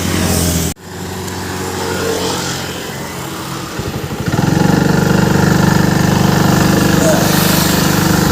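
A TVS XL moped starts after a brief pause, its small engine at first running unevenly, then settling into a loud, steady, close putter that continues to the end, with a voice talking over it.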